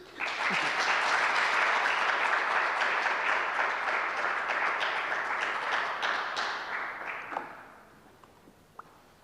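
An indoor audience at the SAHRIS 2.0 launch event claps in sustained applause, dense and loud for several seconds before thinning out and fading to a few scattered claps.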